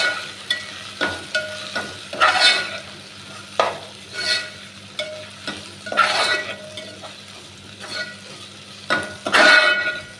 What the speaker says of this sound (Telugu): పుదీనా వేసుకొని ఒకసారి కలపాలి.